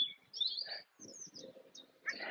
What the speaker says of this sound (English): I don't know if you also hear all the uh, all the birds.